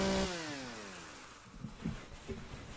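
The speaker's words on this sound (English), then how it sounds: "I want to try out that chainsaw." A chainsaw in the survival video game Empyrion: Galactic Survival revs loudly, then its engine pitch slides down and fades, followed by a few soft scattered knocks.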